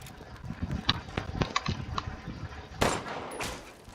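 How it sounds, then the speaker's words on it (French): Gunfire in Resident Evil gameplay: a scattered series of short sharp shots and clicks over a low rumble, then a louder burst near the end. "Et j'ai plus de balles. Oh, j'ai gâché ma dernière balle."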